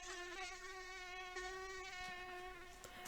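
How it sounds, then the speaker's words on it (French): A single mosquito's wings buzz in a steady, high-pitched, close whine with no voices around it, holding almost unchanged in pitch and loudness throughout. "les moustiques font ce bruit caractéristique, c'est parce que leurs ailes battent près de 720 fois"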